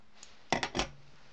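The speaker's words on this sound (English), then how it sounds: "Looks like I'm gonna have to sharpen these scissors." Scissors snip through cordage, three quick, faint metallic clicks close together in an otherwise quiet space.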